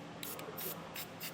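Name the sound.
spraying clear coat onto exposed metal bolts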